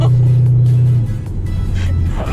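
A Camaro SS engine with a Pedal Commander roars loudly up close under a barely touched gas pedal, its pitch dropping after the first second as the revs ease and settle into a lower rumble.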